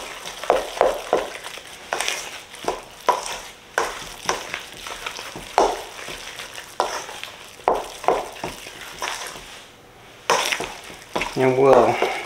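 Chopped ham, mayonnaise and chopped jalapenos are stirred together in a bowl, giving repeated wet squelching scrapes in an uneven rhythm, close up, with a voice talking briefly near the end.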